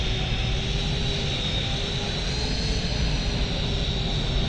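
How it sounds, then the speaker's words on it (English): A loud, steady airplane engine drone from Microsoft Flight Simulator 2020 runs continuously without change or talk, a broad roar holding at an even level. "That plane's gonna be really annoying because it's so loud."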